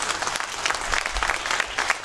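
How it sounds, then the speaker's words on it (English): Audience applause for a recruitment manager being introduced at a company recruitment event, steady clapping from a crowd sustained for about two seconds without a break. "Sir, may I have you stand up and give you a round of applause, please?"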